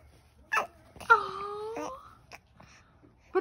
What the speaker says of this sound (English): What does that baby talk sound for?